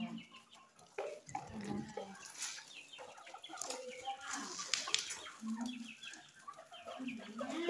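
A rooster clucks and calls in short, scattered bursts at close range, mixed with faint rustling and other soft bird sounds around it.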